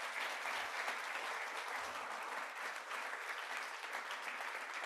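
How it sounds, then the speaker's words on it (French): Quiet, distant-sounding applause from a small group at a relaxation training session, even clapping sustained for about five seconds with a low overall level. "bravo Pierre, on peut t'applaudir."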